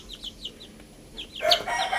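Two-week-old chicks peep in quick high chirps, followed by a louder burst of overlapping chirping and clucking from the flock nearby.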